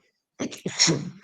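A single sneeze bursts out after a moment of silence, close and fairly loud, during a talk on startup company paperwork.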